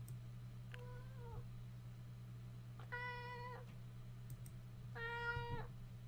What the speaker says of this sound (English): And here's my other cat.